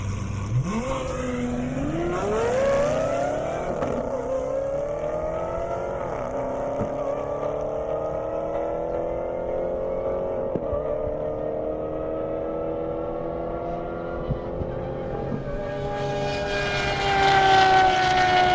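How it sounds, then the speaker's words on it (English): A Lamborghini Aventador with its V12 and a Dodge Hellcat accelerate hard side by side down an airstrip drag strip, engines climbing through repeated rising gear pulls as they roar away, loud and sustained throughout. "That Aventador sounds amazing."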